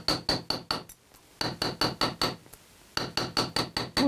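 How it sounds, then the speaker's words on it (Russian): Small chasing hammer cold-forging metal earrings, a brisk series of sharp bright taps in quick bursts of four to six strikes separated by short pauses, close and alone. "Вот куем, да. Вот ставим, и просто тут есть такие специальные молоточки. Чеканы называются."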